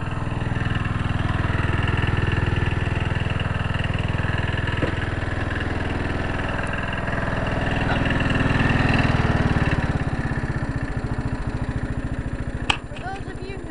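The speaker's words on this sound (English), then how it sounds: "For those of you who know this tractor, know that it idles like crap." A small lawn tractor engine idles roughly and unevenly, with a loud, close, pulsing mechanical chug that lasts throughout and turns choppier toward the end, punctuated by a sharp click near the finish.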